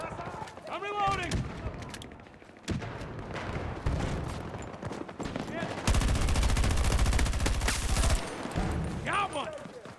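Rapid bursts of video-game gunfire, including sustained automatic fire, crackle loudly and close through most of the stretch, with a player's voice talking over it in places.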